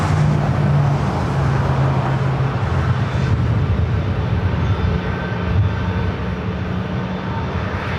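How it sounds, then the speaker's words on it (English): At Los Angeles International Airport, a jet roars steadily through a takeoff from the north side, with a broad, sustained engine rumble and a faint whine holding at a constant level throughout. "We got quite a few takeoffs heading up here to the north side."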